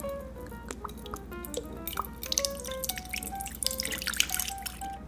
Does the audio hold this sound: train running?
no